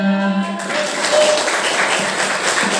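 Applause for a music group at a school entertainment event, starting as the last sung note fades and carrying on as a steady, broad wash of clapping from the audience.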